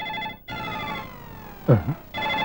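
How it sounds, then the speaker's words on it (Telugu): A phone rings with a bright, warbling electronic tone, cut off briefly and then resuming, while a short voice cuts in partway through. "ఫోన్ రింగ్ అవుతుంది అక్కడ."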